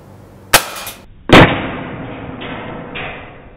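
Two sharp, loud cracks from a CZ 75 P-07 Duty CO2 BB blowback pistol, spaced under a second apart, the second followed by a lingering hiss and clatter of the blowback action.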